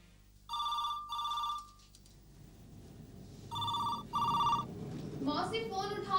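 An old-style telephone bell rings in two double bursts, loud and close, with a noisy room and voices talking between and after the rings.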